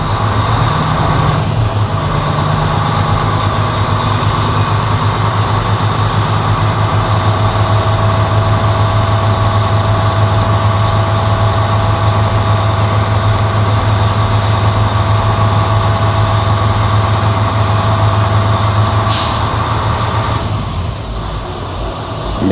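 A commercial truck's engine is held at a raised, steady rev to build air compressor pressure, a loud constant drone with a low hum that continues unbroken and eases slightly toward the end.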